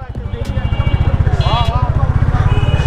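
A Royal Enfield Classic 350 motorcycle rides through city streets, its engine giving a steady, rapid low thumping pulse close to the microphone, with a voice briefly heard over it.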